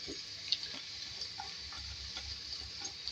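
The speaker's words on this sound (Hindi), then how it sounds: "इसको हम थोड़ा सा फ्राई करेंगे।" Two medium chopped onions fry in oil in a pan, giving a soft steady sizzle with faint scattered ticks and light stirring scrapes, quiet and continuous throughout.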